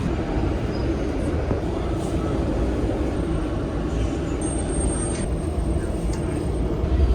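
Washington DC Metro train pulling out, a steady low rumble of rolling wheels and motors with faint high tones above it, heard from on board or close by and sustained throughout.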